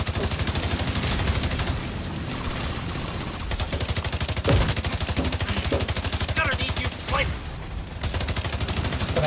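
Rapid, loud automatic turret gunfire in a video game, with dense bursts of shots hammering almost continuously, and a voice speaking briefly underneath.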